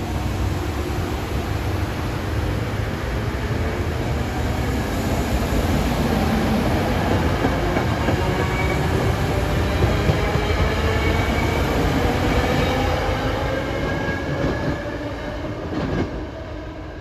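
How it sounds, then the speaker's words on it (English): Amtrak train 651, running from New York to Harrisburg, passes close by in a loud, sustained rumble of wheels and cars with rhythmic clatter and faint squeal, easing slightly toward the end. "here comes 651 from Amtrak, New York to Harrisburg"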